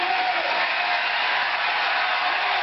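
A large stadium crowd roars steadily at the NCAA outdoor track and field championships in Oregon after the men's 1,500 finish, a broad, distant wash of cheering with no break.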